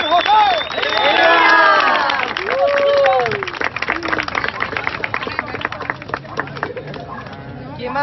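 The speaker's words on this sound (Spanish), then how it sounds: "Un aplauso. ¡Bravo!" A crowd claps and cheers for a churro vendor at his new stand at the UIS university. Shouting voices ring out over the clapping, then give way to scattered chatter.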